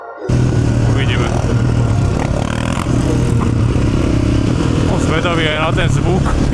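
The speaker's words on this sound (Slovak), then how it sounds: "Zvedavý aj na ten zvuk výfuku." Yamaha MT-09 motorcycle exhaust drones loud and steady through the whole ride, with engine rumble close to the helmet-mounted microphone and occasional revving and clatter as people talk over it.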